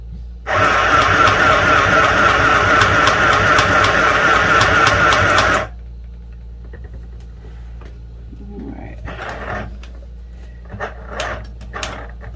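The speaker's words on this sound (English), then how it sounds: "Let's sew this again because I'm going to do some comparison with the Singer Quick Stitch." A JRING sewing machine stitches fabric in one loud, steady run of about five seconds, then stops, leaving faint handling clicks and rustles.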